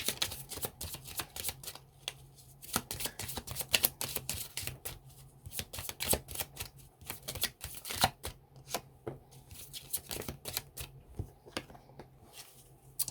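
Tarot cards riffled and shuffled at close range, a dense run of sharp papery flicks and slaps that keeps going with short pauses, with no talking over it.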